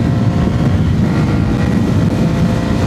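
A KPM 200 motorcycle with a 200 cc engine and six-speed gearbox is ridden at speed. Loud, steady engine drone with heavy rumbling wind buffeting on the microphone, and no talk.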